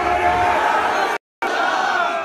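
A large religious gathering's crowd roars a slogan in unison, a loud massed shout that cuts off abruptly into a brief silence, then resumes with the same full-throated chanting.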